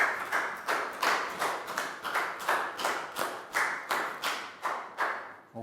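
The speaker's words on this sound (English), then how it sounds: "Big round of applause for Net." A classroom of young primary pupils claps for a classmate during an English lesson, a steady run of about fifteen sharp, evenly spaced hand claps, close and clear with no talking.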